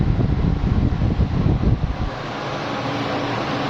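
A restored pneumatic pump runs and blows air in a loud, steady, rushing hiss with a rough low rumble that eases off about two seconds in, leaving a smoother continuous airflow.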